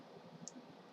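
Calculator keys pressed during a worked calculation, heard as a faint tap or two over a low steady background hiss.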